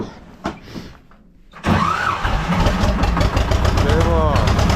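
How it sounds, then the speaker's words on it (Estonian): A T-16 tractor engine turns over and catches after a quiet pause, then settles into a loud, close, steady running chatter while a voice speaks over it. "Vaatame, kas traktor läheb uuesti käima või läheb"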